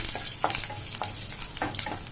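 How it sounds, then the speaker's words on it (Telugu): Curry leaves crackle and spit as they fry in hot tempering oil for peanut chutney, a steady close sizzle with sharper pops scattered through it and no voices. "కరివేపాకు కూడా వేసుకుంటాం, అవి వేడికి వేగిపోతాయండి."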